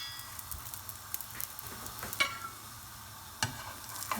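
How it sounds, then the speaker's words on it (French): A msemen flatbread fries in a pan with a soft, steady sizzle. Scattered light crackles and a couple of sharper utensil taps sound close by, with no talk. "vous la retournez et vous la laissez cuire de l'autre côté"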